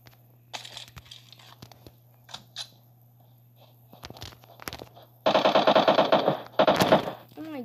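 Gunfire in the video game PUBG comes as a rapid burst of automatic shots near the end, preceded by scattered faint clicks and shuffles over a steady low hum.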